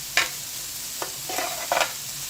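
Peppers and vegetables fry with onions in a pan as a utensil stirs and scrapes in a few short bursts, a soft sizzle running faintly underneath.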